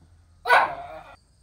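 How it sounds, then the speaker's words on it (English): A dog gives a single loud, close bark-like yelp with a short trailing whine, standing alone against a quiet room. "What is it with dogs and the mailman?"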